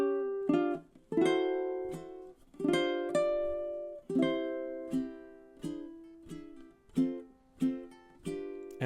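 A ukulele picks out measures five through eight of the melody of a song, with a steady run of bright plucked notes and chords, each ringing briefly before the next, played alone and close.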